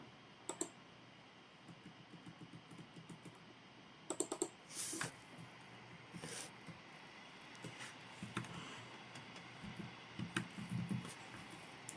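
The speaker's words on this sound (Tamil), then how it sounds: "டைப் பண்ணுறேன்" Soft, irregular taps on a computer keyboard in a quiet room during design work, with scattered clicks and a few louder clustered strikes over a low background hiss.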